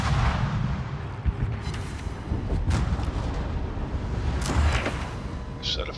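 Warship guns fire in the naval combat game World of Warships, heavy booming salvos and blasts rolling over a dense rumbling battle backdrop, loud and close.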